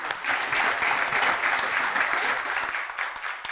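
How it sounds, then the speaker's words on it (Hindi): Loud, sustained applause from an audience honoring an award received by Bhanwari Devi from a US foundation, steady dense clapping filling the whole moment without speech. "तो इस अवार्ड के लिए सबसे पहले जोरदार तालियां"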